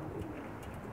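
Pigeons coo steadily in low, soft, rolling calls, several birds overlapping close by with a faint airy background.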